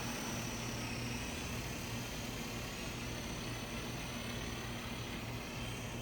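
A Walmart Sky Rover RC toy helicopter flying outdoors gives a steady, even buzzing whir that holds for the whole stretch with no voices over it.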